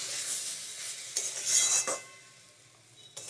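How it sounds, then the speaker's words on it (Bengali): A spoon stirs semolina in a pot as water is added bit by bit, giving scraping, swishing strokes with brief sizzling bursts and a faint clink, close and alone with no talk. "অল্প অল্প করে জল দিতে হবে আর এটা নাড়তে হবে।"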